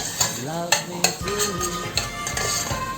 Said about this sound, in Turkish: soğanlarımızı güzelce kavurmaya devam ediyoruz